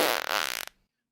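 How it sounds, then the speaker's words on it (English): A fart sound effect plays as one loud, buzzy, sputtering burst lasting about two-thirds of a second, then cuts off abruptly into silence. "the opposite of a Bart is a fart. So if something's terrible, it's a fart, you'll hear this."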